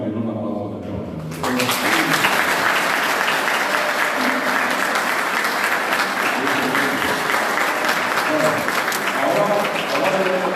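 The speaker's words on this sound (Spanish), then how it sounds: "Yo creo que ustedes guaraní se merecen también un aplauso" An audience at a university talk on the Guaraní language breaks into loud, sustained applause after a short quiet opening, many hands clapping densely and steadily for about nine seconds.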